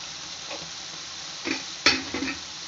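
Tomatoes, onions and garlic frying in a pan for egg pasta, giving a low steady sizzle broken by a few louder scrapes and stirring clatters near the end.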